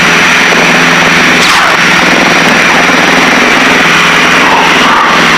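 Twin engines of a Piper Seneca drone loudly and steadily in flight, a dense, constant propeller roar with a faint pulsing hum and no audible talk over it.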